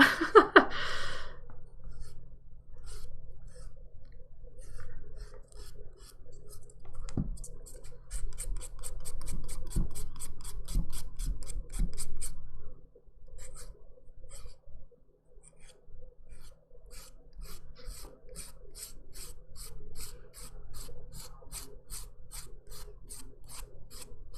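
Hand filing of fingernails with a curved file during a dip powder manicure, quick rapid rasping strokes in bursts, soft and close, with a low steady background hum.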